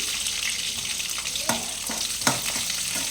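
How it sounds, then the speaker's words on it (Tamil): Mustard seeds, curry leaves and garlic fry in hot oil with a steady close sizzle, broken by a couple of sharp pops and spatters. "கடுகு போட்டதுக்கப்புறம் கருவேப்பிலை, பூண்டு போட்டிருக்கேன்."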